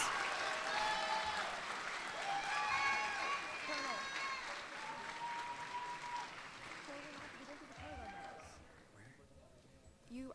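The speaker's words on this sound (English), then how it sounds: "Please join me in a round of applause for these cadets" Audience applause for JROTC cadets at an annual awards ceremony, steady and sustained for about ten seconds, fading toward the end, with overlapping voices and cheering mixed into the crowd noise.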